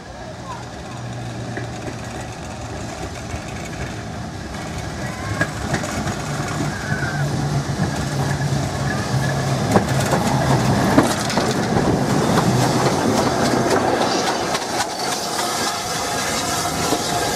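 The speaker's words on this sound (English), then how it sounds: "The Sheffield Park service now approaching platform number 2." A train rumbles into a station platform with a steady low drone and faint rail clatter, building slightly louder over time, with a platform announcement speaking over it at times.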